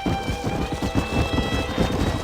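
A galloping horse in the Western video game Red Dead Redemption, its rapid hoofbeats drumming steadily under a game soundtrack with sustained musical tones throughout.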